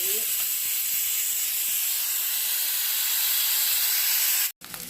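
Food fries in a hot pan with a steady, close sizzle and hiss that holds for several seconds before a brief break.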